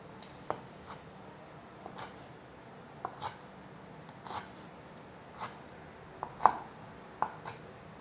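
A knife cuts carrots shorter on a board, about a dozen separate crisp chops spaced irregularly across the stretch, close and fairly quiet with no talk.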